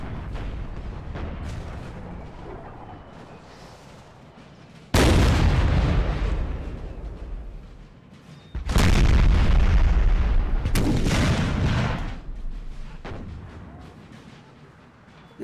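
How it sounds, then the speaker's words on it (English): Booming cannon volleys echo through a Napoleon Total War 3 battle. Heavy rumbling artillery fire rolls continuously, with several loud, sustained bursts of massed shots standing out over the din. "this may turn into a bit of an artillery duel for a little while"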